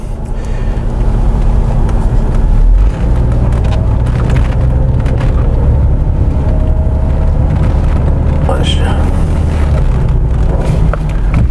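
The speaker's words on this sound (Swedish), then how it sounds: "Här hörde vi ett litet klonk när vi körde över ett gupp." A Jaguar XJ (X300/X308) saloon drives along with a loud, constant road and engine rumble inside the cabin, and a faint brief suspension clonk as it passes over a bump.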